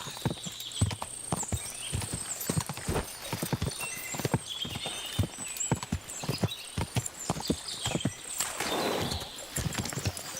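Horse hooves walking in Kingdom Come Deliverance 2, a steady close clip-clop of unhurried steps running throughout, clear and without talk.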